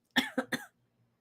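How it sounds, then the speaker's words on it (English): A short burst of three quick coughs, close and clear, followed by silence. "I just had a cough"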